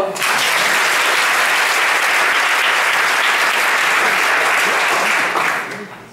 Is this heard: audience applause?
yes